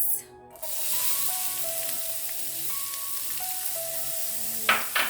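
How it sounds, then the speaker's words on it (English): Onions frying in cooking oil give a steady, close sizzle that starts after a brief quiet moment and ends with a couple of louder crackling bursts, over faint background music. "So we're just going to cook this onion."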